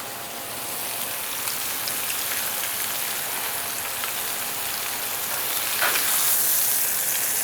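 Ribeye steaks sear in a hot grill pan, giving a steady, dense sizzle that runs the whole length and swells slightly near the end, with no talking over it.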